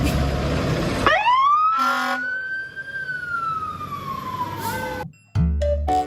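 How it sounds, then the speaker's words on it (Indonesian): A toy fire truck's loud electronic siren wails up and holds a steady tone, then drops off, followed by short beeps and clicks from the toy. "ternyata pemadam kebakaran nih teman-teman. Wah, sepertinya ada suaranya juga nih teman-teman."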